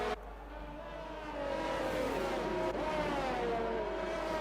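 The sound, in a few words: race car engines in a sim racing video game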